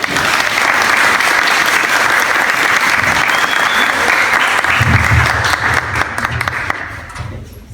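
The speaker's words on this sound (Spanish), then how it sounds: "Recibimos con un aplauso a los expositores Máximo Haas, Nicolás Zúñiga, Eloísa Haas" Loud, close applause from an audience at a university research presentation in Chile, welcoming the presenters with steady clapping that tapers off near the end.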